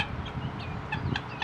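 Chickens on a farm cluck in short, repeated calls over a low background murmur, fairly close and moderately loud.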